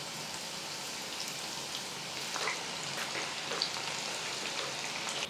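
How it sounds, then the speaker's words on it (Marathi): Bitter gourd slices frying gently in oil over low heat, a steady dense crackling sizzle throughout with faint scattered pops. "आता अशीच सगळी कारली मंद आचेवर तळून घेते."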